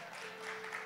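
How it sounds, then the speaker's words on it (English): Steady applause from a church congregation, a continuous wash of clapping at moderate loudness with no voices over it. "Thank you for clapping for him, please."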